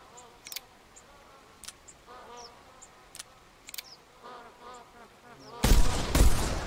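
A loud rifle gunshot in the hunting game theHunter Classic, fired with a single-shot gun at magpie geese, bursting out near the end after a quiet stretch of buzzing insects and faint clicks.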